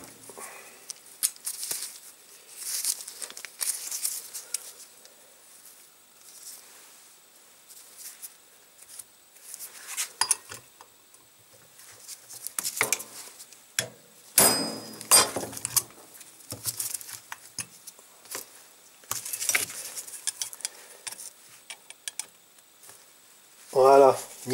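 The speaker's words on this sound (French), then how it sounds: "tournevis à choc c'est vraiment bien pour ça" Sharp metallic taps and clinks ring out unevenly as an impact screwdriver is struck to loosen screws on the Zenith 32 carburetor of a 1955 Panhard Dyna Z1 engine, in a quiet workshop.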